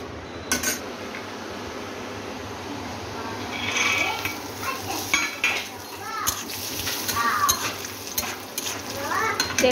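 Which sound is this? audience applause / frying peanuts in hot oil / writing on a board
frying peanuts in hot oil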